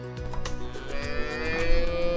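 Longhorn cattle low loudly in a single long, drawn-out moo that rises and holds, close by and clear with no talking over it.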